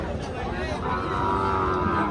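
A Sahiwal bull at a cattle market lows in a drawn-out moo against crowd noise of the market.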